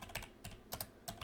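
Keystrokes on a computer keyboard while typing a short phrase into a video-editing program, heard as four quick clusters of clicks spaced about a third of a second apart, close and fairly quiet, with no talking.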